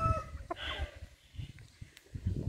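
A Rhode Island Red hen about sixteen weeks old clucks softly at close range, short quiet murmured calls spread across a brief quiet stretch with light rustling.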